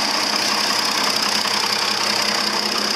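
A John Deere 5020 tractor engine runs steadily nearby, a loud, continuous mechanical drone with a knocking, idling texture and no voices over it.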